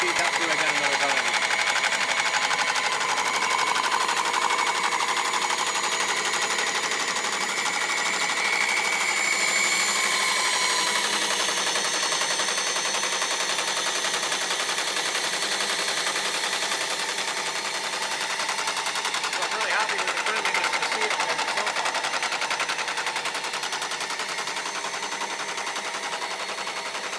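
An Office Clipper seed cleaner processes carrot seed, producing a steady, dense mechanical rattle and hum with fine rapid clatter that holds evenly throughout, close and fairly loud.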